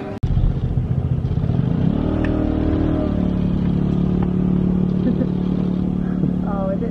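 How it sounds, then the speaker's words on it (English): A moped engine runs close by throughout, with a steady low drone and harmonic hum that rises in pitch as it revs early on, loud and continuous on an island road. "We have our moped, we've got our helmet."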